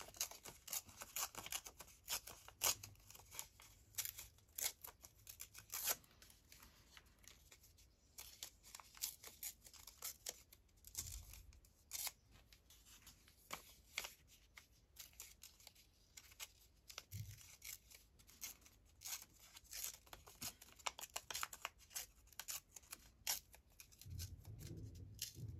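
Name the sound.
tearing paper around a flower shape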